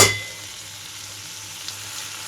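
Ivy gourd (dondakaya) pieces frying in a pan, a steady soft sizzle with faint crackles after a brief clatter at the start.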